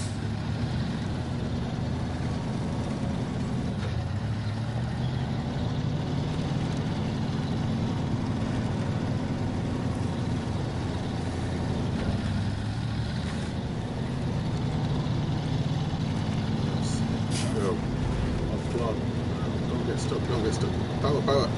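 Truck engine in SnowRunner driving off-road, a steady low rumbling drone running loud and continuous throughout, with a voice talking over it.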